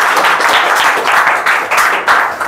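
A group of students in a spoken English classroom clapping together, a dense, steady patter of many hands that stays loud throughout with small swells, no voices over it.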